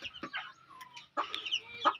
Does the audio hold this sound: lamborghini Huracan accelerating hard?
no